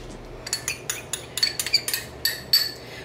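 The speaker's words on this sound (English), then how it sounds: "We're going to mix that well" A utensil clinks and scrapes against a bowl in quick, uneven taps while crumbled graham crackers are mixed with sugar for a cheesecake crust. The sound is close and fairly quiet, with no talking.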